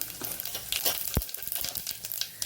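Cumin seeds crackle in hot ghee and oil heated for tempering an urad dal. Quiet sizzling is broken by scattered pops and one sharp clack, all fairly faint and with no speech.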